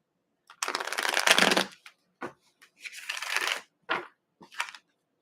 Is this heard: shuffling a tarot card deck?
yes